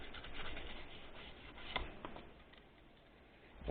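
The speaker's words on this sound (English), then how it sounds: "All I'm doing is just using some no clean flux remover. Just giving them a quick scrub." Quick brushing scrub on a Nintendo Game Boy DMG-01 circuit board wet with no-clean flux remover, a soft continuous rubbing and scratching texture close up, with a brief tap midway and no talking.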